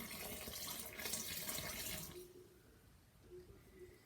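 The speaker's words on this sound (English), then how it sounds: "So I've got 1 cup of cold water, which I'm pouring in." Cold water is poured from a cup into a homemade playdough mixture, giving a steady, close splashing gush for about two seconds that then stops, leaving faint room quiet.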